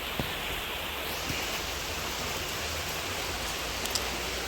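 Heavy rain pours down in a steady, dense hiss that stays even and unbroken throughout, loud and close with no voices.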